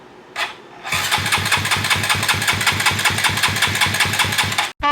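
A dirt bike engine catches after a brief cranking whine and settles into a loud, steady, close-up putter with a regular rhythmic pulse, cutting off abruptly at the end.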